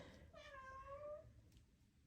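A house cat gives a single short meow, faint and slightly distant, in a quiet indoor room.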